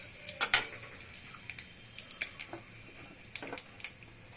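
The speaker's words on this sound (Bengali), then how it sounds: "এখন আমি তেলে গোটা জিরা ফোড়ন দিচ্ছি" Whole cumin seeds are tempered in hot oil: sparse, faint crackles and sharp little pops come at irregular intervals over a quiet, low sizzle.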